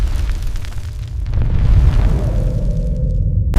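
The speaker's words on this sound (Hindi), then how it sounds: "धमाका हुआ।" A magic wand blasting apart in a cartoon, a loud, sustained roaring boom that rumbles heavily in the low end for several seconds, then tails off into a lingering hiss.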